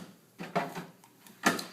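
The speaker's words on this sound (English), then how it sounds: "This unlocks all of the drawers on the cart." Rubbermaid medication cart drawers unlocking in a hospital: a few quiet, separate mechanical clunks and clicks spread over under two seconds, close by, with no talking.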